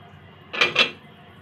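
A lid set over a pot of marinated chicken for pakora, two quick close metallic clinks in succession over a quiet kitchen background.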